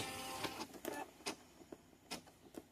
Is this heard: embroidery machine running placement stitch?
yes